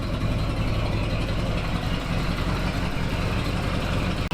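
A turbocharged V8 farm truck engine idles steadily and close by, a continuous low rumble running evenly throughout with no talking over it.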